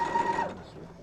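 A treadle sewing machine stitches a quilt with a brief whirring, mechanical run that tapers off within about a second, heard close and moderately loud.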